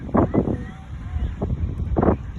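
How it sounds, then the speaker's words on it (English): Low, blustery wind at the beach rumbling against the microphone, with a few short voice-like bursts cutting in over the gusts. "It's windy."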